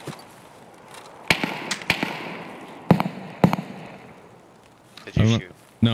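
Several sharp, loud gunshots from the video game Escape from Tarkov ring out irregularly, spaced singly across a few seconds over a low background rumble, with a brief voice near the end.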